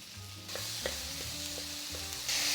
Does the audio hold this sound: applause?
no